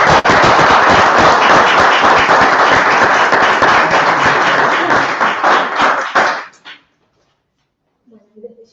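Loud, dense applause from an indoor audience, sustained for about six seconds before stopping abruptly and leaving near silence.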